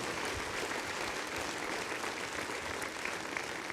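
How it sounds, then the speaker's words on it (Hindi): Applause from an audience at a business event, continuous dense clapping heard from some distance at low volume without any speech. "सो ज़ोरदार तालियां बनती हैं यार"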